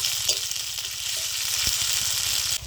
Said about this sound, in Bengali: আদা রসুনটা দিয়ে কিন্তু ভালো করে নেড়ে চেড়ে নেব, ভালো করে আদা রসুনটা ভেজে নেব